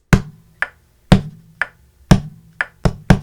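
A raw, unprocessed kick and snare pattern: thin, dry hits alternate at a steady pace, the kick boomy and the snare a short tick, with small ghost hits between the main strokes.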